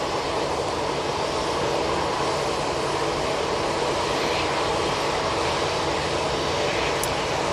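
An Airbus A320 airliner departs Manchester Airport bound for Frankfurt, its jet engines a steady, unbroken broadband roar that holds evenly loud from start to finish.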